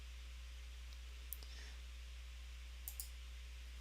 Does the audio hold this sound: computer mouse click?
yes